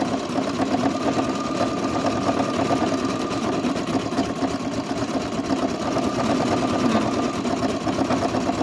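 A sewing machine stitching a zigzag to hold lace in place, its motor humming continuously with a rapid, even needle chatter, close and steady with no pauses.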